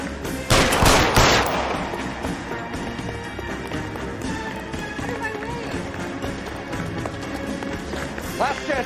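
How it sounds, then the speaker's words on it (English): A loud burst of gunfire erupts early in a chase in the video game L.A. Noire, followed by running footsteps and busy action sounds, with voices under the scene. "Sabo, stop or I will shoot."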